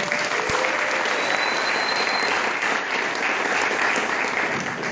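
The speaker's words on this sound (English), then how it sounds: "So if we can clap for him." Audience clapping at a hackathon showcase, a continuous, dense sheet of applause from a large group, steady and fairly loud for about five seconds.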